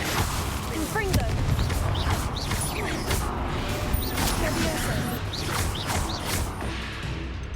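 Blasts of the Confringo fire spell in Hogwarts Legacy hit amid a dense, steady wash of clanking battle effects and music, several sharp bursts spread across the stretch, with game voices mixed in.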